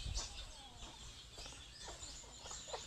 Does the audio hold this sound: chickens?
yes